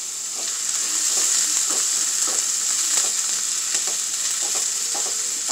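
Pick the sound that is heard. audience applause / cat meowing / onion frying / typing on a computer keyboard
onion frying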